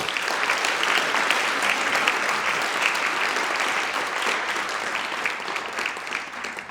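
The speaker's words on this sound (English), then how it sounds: "please join me in a round of applause to thank them for making these programs possible." Steady, dense applause from a large audience, continuous and even throughout without a break.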